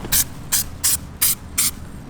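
A spray can of self-etching primer is sprayed onto bare car metal in five short, evenly spaced bursts, each a loud, close hiss over a quiet background.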